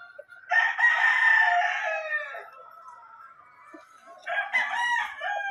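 A Kelso gamecock rooster on a farm crows loudly and close by in a long drawn-out call, falls quiet, then starts another crow near the end, with no talking.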